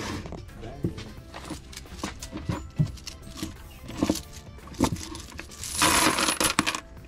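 Antique car coins from a storage unit clink and jingle as they are handled, with repeated metallic taps and a denser rattle near the end, close by, with people talking around them.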